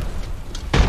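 Grenade explosions in a video game: a soft muffled pop partway through, then a loud, sharp blast near the end that booms deep and full, with low game ambience under it and no speech.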